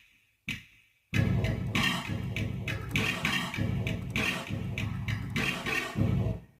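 A drum kit built from sampled kick, snare and pitched-down brick sounds plays a steady beat drenched in reverb, the thumps and cracks washing together, with no talking.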